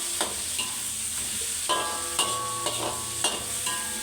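An egg frying in hot oil for egg sambal, a close, steady bright sizzle with several sharp spoon or spatula taps and scrapes at uneven intervals.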